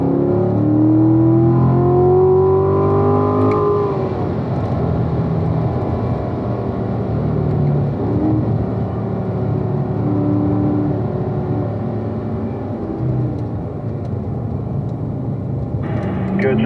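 A Chevrolet Corvette Grand Sport accelerates on a racetrack during a driving school session, its engine rising in a steady close drone that runs through the whole stretch beneath an instructor's voice.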